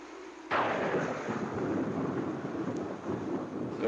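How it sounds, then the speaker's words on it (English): Loud, deep rumble of thunder from an approaching storm, breaking in abruptly after a brief quiet and rolling on continuously to the end without any voices. "Looks like a storm"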